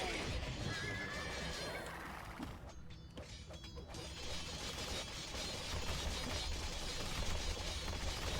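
Game horses in Age of Empires 2 let out loud whinnies against constant rumbling hoofbeats and mechanical clatter, with a brief dip in the din partway through before the busy mix returns.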